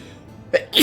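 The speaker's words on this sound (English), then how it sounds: "The sneeze." A person sneezes, a short two-part burst with a quick intake followed by a loud, close explosive release, heard alone without talk.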